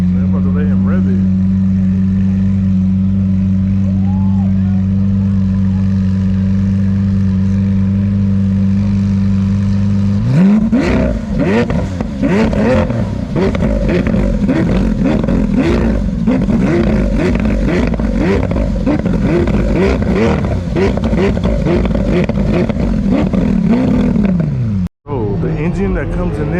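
An Acura NSX at the Fuel Fest car show holds a steady idle, then revs hard and stays high for about fifteen seconds before cutting off, loud and close, with crowd chatter and voices around it.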